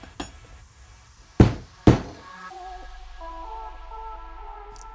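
A mallet strikes diamond chisels through leather while a wallet is being made: a light tap, then two loud, sharp thuds close together, followed by a quiet, low workshop hum.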